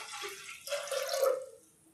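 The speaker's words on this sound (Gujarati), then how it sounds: "ચણા બાફવા માટે મેં કુકરમાં પાણી નાખી દઈશું આપણે 2 થી 3 ગ્લાસ" Two to three glasses of water are poured into a pressure cooker for boiling chickpeas, a short close splashing pour that swells and then tapers off.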